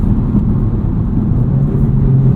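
A tuned FL5 Honda Civic Type R pulls in fifth gear from around 3,000 RPM, a loud steady low engine drone heard from inside the cabin, without change or pause.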